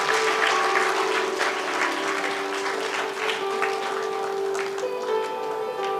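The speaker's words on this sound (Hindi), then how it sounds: "ताली बजा आदित्य के लिए।" Audience applause at a Good Friday prize-giving event, honoring a girl who placed second in a children's picnic race: steady, dense clapping from a nearby crowd, sustained for the whole stretch with no pause.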